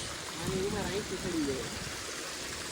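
Water flows steadily at a dam in a natural setting, a constant broadband rush under people talking and calling out.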